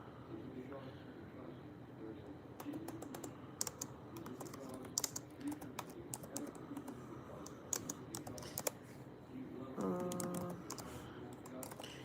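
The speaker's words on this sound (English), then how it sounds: "I'm just gonna type it crazy. I can't type with these nails." Typing on a computer keyboard with long nails, a quiet run of light, irregular clicks and taps that comes and goes while someone talks over it.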